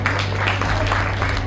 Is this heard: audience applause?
yes